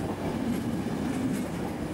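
A freight train passing through a station in Genoa, Italy, in the late 1990s, a continuous close rumble of rolling wagons with faint rhythmic clatter and light wheel squeal.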